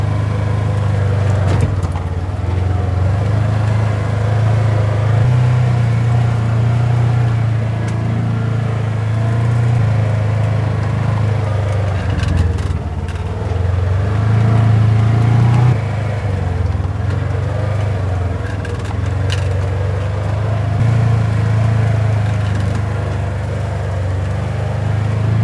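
Low, steady engine drone of a 25 HP tractor crossing rough, muddy ground, its note rising and dipping with load and punctuated by occasional knocks and jolts, close and continuous with no talk.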